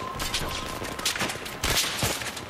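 Gunfire in the video game Battlefield 3, a quick burst of several loud cracking shots in close succession over steady game background noise.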